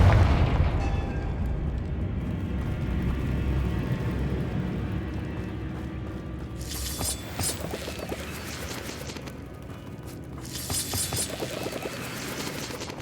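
Explosive Confringo spell cast in Hogwarts Legacy on hard difficulty, heard as a loud rumbling boom that decays into a low roar, with crackling bursts of fiery impact following in the latter half.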